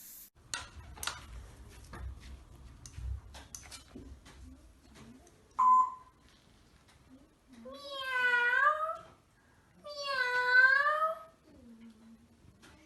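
Two long, drawn-out meows in a theatre piece, loud and close, rising and falling, preceded by faint ticking and scattered clicks; the cries sound like they may be voiced by a performer.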